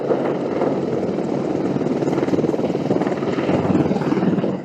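A US attack helicopter flies with a loud, pulsing rotor thump and engine roar, the rhythmic chop steady and close the whole time.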